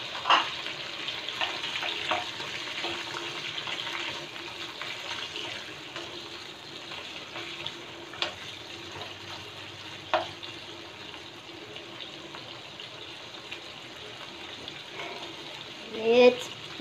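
Shrimp sizzle and fry in a pan for shrimp fried rice, a steady crackling hiss with a few sharp clinks and a louder burst near the end.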